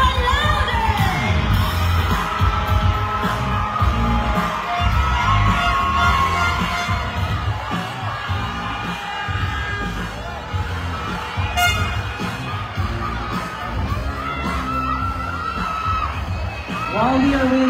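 A crowd at an Ambassador and Ambassadress of Goodwill pageant in the Philippines roars with cheering, shouts and high-pitched children's yells that overlap continuously and loudly, swelling again near the end.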